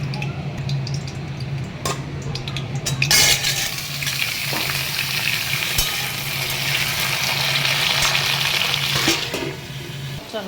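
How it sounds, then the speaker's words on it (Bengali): Drumstick pieces and potatoes fry in hot oil, giving a continuous loud sizzle and crackle with occasional stirring scrapes and utensil knocks. "চলো সজনাটা আর আলুটা ভেজে নিলাম ভালো করে।"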